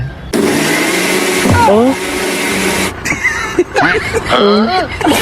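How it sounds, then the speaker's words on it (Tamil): A loud, steady grinding whir of a kitchen mixer grinder runs continuously, with voices talking over it and a brief pause partway through. "என்ன மிக்ஸி ஓடுது?"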